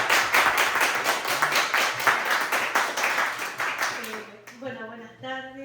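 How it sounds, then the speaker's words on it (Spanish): Lively applause from an audience, many hands clapping at once, fading out as a voice begins speaking over the last claps. "Un fuerte aplauso público."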